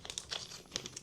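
Plastic packaging crinkles and rustles up close while a Bambu Lab P1S 3D printer is unboxed, a quick flurry of short crackling handling sounds, fairly quiet, with no speech.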